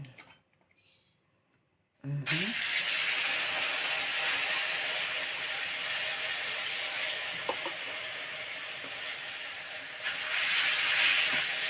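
Fish sizzling in hot oil in a pan, two pieces fried for crispiness: a loud, steady broadband hiss starts abruptly after a quiet opening and continues without pause, with faint clicks and a brief swell near the end.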